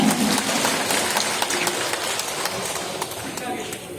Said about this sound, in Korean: 우리 준하경 시장님께 다시 한번 감사의 박수 부탁드리겠습니다